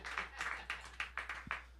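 Audience at a live comedy show clapping along in a slow, regular rhythm, about seven soft claps spaced evenly, faint and somewhat distant in a room.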